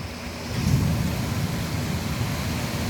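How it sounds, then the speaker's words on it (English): Thunder rolls outside during a storm as a continuous low rumble, swelling slightly and then holding steady under a wash of rain-like noise, with no talking. "I know that was thunder or lightning."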